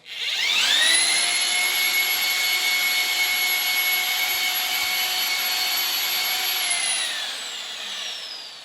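Mixer paddles stir a creamy mixture with a steady motor whine that starts abruptly, holds loud and even for about seven seconds, then winds down, with no talking.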